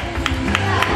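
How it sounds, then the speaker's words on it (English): Audience at a charity deadlift event applauding a lifter, a dense wash of clapping and crowd murmur with a few sharper claps, heard under voices talking. "let's give him a round of applause, guys"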